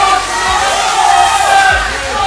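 A crowd at a live CrossFit 20.5 workout event at CrossFit Punt Uit cheers and shouts steadily in a loud, continuous roar, with a voice over it.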